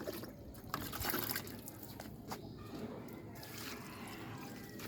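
Water is poured into a container in short, uneven splashes and trickles, fairly quiet, with gurgles and drips between pours.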